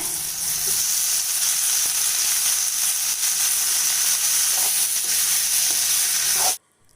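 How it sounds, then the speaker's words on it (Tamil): Small whole brinjals (eggplants) fry in oil in a pan for a masala curry, with a loud, dense, continuous sizzle up close that stops abruptly near the end. "இப்போ நம்ம வெட்டி வச்ச கத்திரிக்காய் சேர்த்துடலாங்க"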